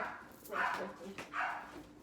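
Pet dogs bark indoors in two muffled, fairly distant bursts, moderately loud against a quiet room.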